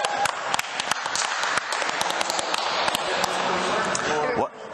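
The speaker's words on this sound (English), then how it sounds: "Round of applause, guys." A hypnosis session audience gives a round of applause, dense steady clapping that fills the room and then cuts off abruptly near the end, with voices mixed in.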